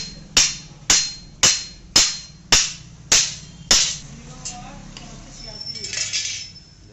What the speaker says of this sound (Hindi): अब इसको यहाँ ठोक के इसकी मदद से प्लेट और हब बाहर कर लेंगे हम।